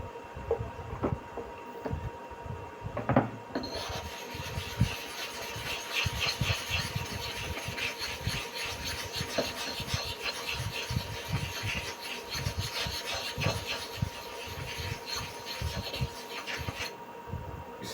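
A barber's clipper blade is sharpened by rubbing it back and forth, giving repeated gritty scraping strokes at an even rhythm, close and moderately quiet.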